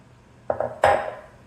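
Utensil knocking and scraping around a mixing bowl of egg, butter and sugar mixture for bread pudding: two quick clinks, then a louder ringing clatter that fades, close and alone.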